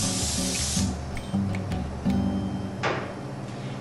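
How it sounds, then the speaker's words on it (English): Cooking spray hissing onto a baking pan for gluten-free baguettes, a close continuous aerosol burst fading out, then a second short spray near the end. "don't forget to spray your pan"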